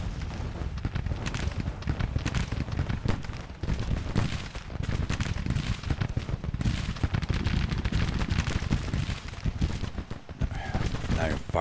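Massed musket volleys and artillery fire in Grand Tactician: The Civil War, a dense, continuous crackle of distant gunfire with heavier booms, under intermittent spoken commentary.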